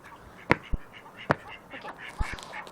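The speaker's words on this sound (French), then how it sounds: "Donc si vous entendez les coin, c'est mon canard." A duck in an online game quacks twice in sharp, nasal bursts, a short pause between them, with a few softer clicks and faint background sound around them.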